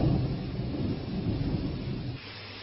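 Thunder rumbles low and steady through heavy rain during a morning storm in the Mangrol area of Junagadh, a dense continuous roar that eases slightly near the end.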